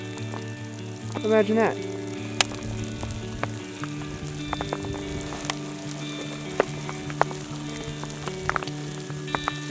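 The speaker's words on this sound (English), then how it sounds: "And it's hailing again." Hail falls during a storm while backpacking the Colorado Trail. Scattered sharp ticks and pattering impacts land on nearby surfaces over a steady hiss, and someone speaks briefly near the start.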